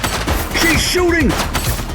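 Rapid bursts of gunfire in the police video game Precinct, loud and close, mixed with shouted voices and tonal game sounds.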